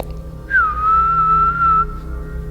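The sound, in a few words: tinnitus ringing tone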